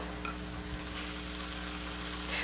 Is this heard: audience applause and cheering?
no